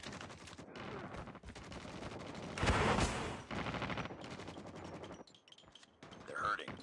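Gunfire in the mobile battle royale Call of Duty Warzone Mobile, with a loud sharp shot cracking out over ongoing rapid weapon noise, close and busy, and voices talking in between.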